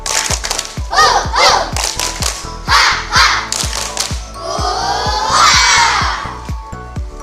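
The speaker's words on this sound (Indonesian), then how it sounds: "Coba tepuk semangat." Students in a physical education long-jump lesson clap a fast, even spirit rhythm together, loud and close, with shouted chanting voices rising over the claps and a long cheer near the end.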